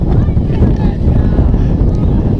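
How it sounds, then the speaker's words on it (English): Heavy wind buffeting a microphone on a mountainside at an outdoor high school football game, a loud continuous low rumble filling the whole moment. "Boy, it is windy."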